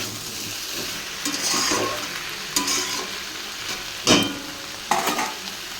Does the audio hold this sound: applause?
no